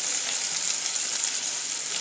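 Onion, ginger and slit green chili sautéing in hot oil for a potato masala, a steady bright sizzle that stays loud and even throughout, with no voices.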